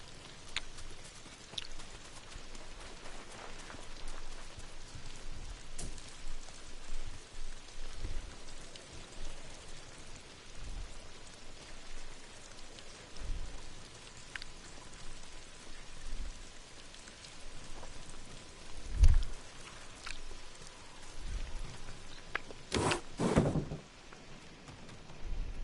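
Steady rain patters on surfaces in the open world of Ghost of Tsushima, a soft continuous hiss with scattered louder drops and a few brief knocks near the end.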